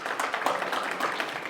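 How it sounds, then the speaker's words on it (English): An audience claps together in a steady, dense round of applause, continuous and fairly loud throughout without any voices standing out. "Give you guys a big round of applause"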